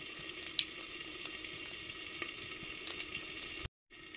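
Nigella seeds sizzling steadily in hot mustard oil in a pan, a close, even crackle with faint pops, cut briefly near the end.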